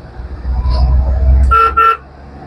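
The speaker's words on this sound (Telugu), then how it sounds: "హారన్ అవైలబుల్ ఉంది" A Maruti 800 car horn gives two short, bright honks in quick succession. The honks follow a stretch of low engine rumble and stand out loud and near.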